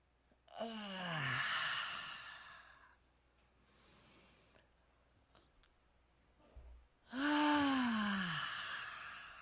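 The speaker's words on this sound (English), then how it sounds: "But we're going to yawn." Two long, loud yawns with a falling vocal pitch, separated by a quiet breathy pause, close to the microphone and without talk.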